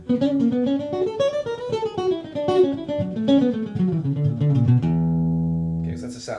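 Jazz melodic minor lines played over a four chord on a sustained, tuned instrument, a flowing run of close single notes ending on a held chord that rings out alone.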